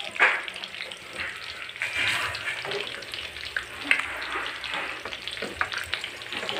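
Pork lomi ingredients fry and sizzle in hot oil in a pan, with a loud, crackling hiss broken by repeated stirring scrapes and spatters.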